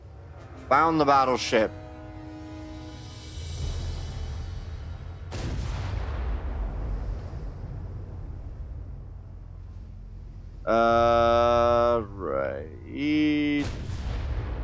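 Naval artillery shelling in the video game Ultimate Admiral: Dreadnoughts, with a few heavy gunfire booms and long rumbling decays between stretches of brief speech.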